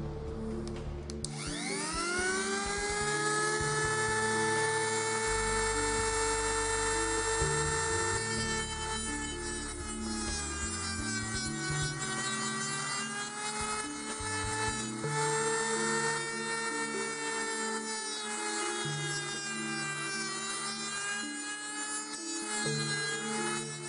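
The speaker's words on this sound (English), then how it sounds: "So I'm just going to roughly cut it out with a Dremel to start with." A Dremel rotary tool cuts away small bits of plastic, its steady high-pitched whine running loud and close for the whole stretch, with slight dips and rises in pitch as the bit bites into the material.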